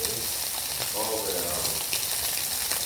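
Chicken pieces frying in hot oil in a home kitchen, a loud, continuous sizzle and crackle close up, steady throughout with no pauses.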